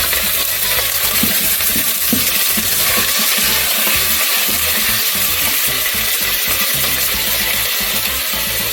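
Broccoli is stir-fried in a hot pan, making a loud, continuous hiss and sizzle with scattered clicks and rattles as it is tossed, and no voices.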